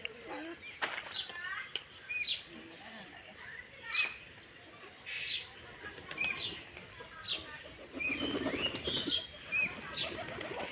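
Domestic pigeons flap their wings in short bursts around a rural loft after heavy rain, with repeated brief fluttering beats against a background of distant voices and faint bird calls.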